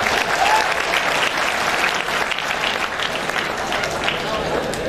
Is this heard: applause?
yes